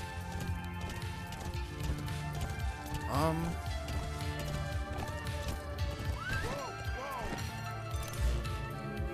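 Hooves clip-clop at a steady gallop amid game music and effects in Metal Gear Solid V: The Phantom Pain, with a horse whinnying briefly partway through.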